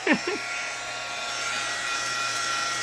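A hair dryer blows with a steady, high-pitched whine and airy rush, continuous and close, after a brief bump of handling noise at the start.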